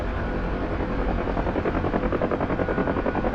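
A Huey helicopter in a video game flies with a loud, steady rotor thump, its fast rhythmic chopping continuous and close throughout.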